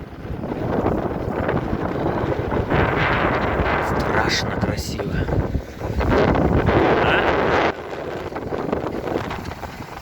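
Strong wind roars over a frozen northern winter-road ice surface, a constant loud buffeting gust at the microphone throughout, with someone briefly talking over it.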